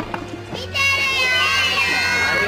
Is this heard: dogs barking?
no